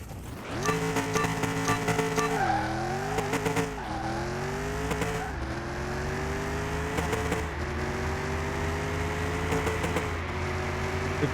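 A 1956 Ford F100 AWD tow truck in a mechanic simulator game revs hard under throttle and handbrake, then launches. The engine note climbs in repeated rising sweeps with gear-change dips, loud and steady with no talk.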